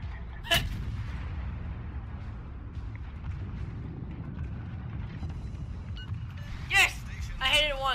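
Ship cannons firing in the World of Warships naval battle game, with a low rumbling engine and sea bed of sound, a sharp blast early on and more booms near the end, with people talking.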